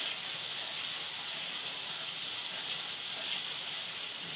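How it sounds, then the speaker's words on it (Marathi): Steady hiss of a spice mix frying in oil for a Rajasthani shev bhaji, a continuous close sizzle that holds level throughout, with no voices. "आणि हे सर्व साहित्य आपण मसाले मिक्स केलेले तेही छानपैकी फ्राय करून घेऊया"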